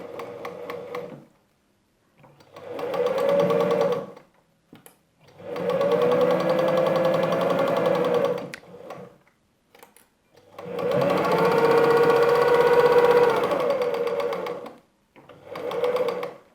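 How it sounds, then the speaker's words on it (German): A sewing machine stitching a fabric triangle for a patchwork curved block, running in several steady humming bursts of a few seconds each, separated by short pauses, close and loud. "Wir halten einmal die Fäden fest und nähen."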